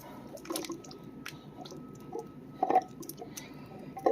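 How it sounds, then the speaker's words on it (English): Two cans of beans with their liquid slop into a pot of homemade chili with tomatoes and water. Soft squishy glugs and drips come in short bursts, close and fairly quiet. "Now I'm going to add in my beans,"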